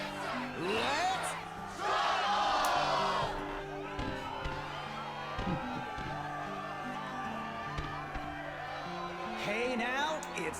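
A crowd cheers and whoops in the Kingdom Hearts II Final Mix arena, loud bursts of excitement rising over game music and voices, swelling then settling into a steadier background roar.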